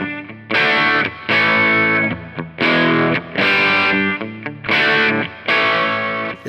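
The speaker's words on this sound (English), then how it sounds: "all I want is just a sort of raw, slightly overdriven, nasty, but still a bit chimey Strat sound" Crunchy overdriven Stratocaster chords through a Pigtone English Man distortion pedal, strummed in a loose rhythm, each chord ringing briefly before the next, loud and raw.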